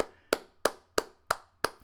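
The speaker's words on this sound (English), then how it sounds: "I think that deserves a long clap" A single person claps slowly and deliberately, five sharp hand claps spaced about a third of a second apart, loud and close with no talking.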